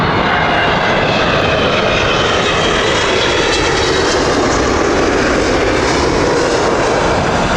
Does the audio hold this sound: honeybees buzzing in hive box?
no